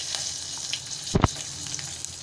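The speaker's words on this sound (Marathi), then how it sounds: "बारीक चिरून घेतलेला कांदा आणि चार लसणीच्या पाकळ्या मी फोडणीला घातल्या आहेत" Chopped onion, garlic cloves and curry leaves hit hot oil in a tempering with cumin and asafoetida, giving a soft steady sizzle plus one short, louder hiss-burst at the drop; close and with no talking.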